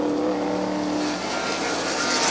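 Race cars in the 1982 IMSA Kelly American Challenge at Lime Rock Park roar past close by, one loud sustained engine note holding high revs and then blurring into a broad rushing sweep.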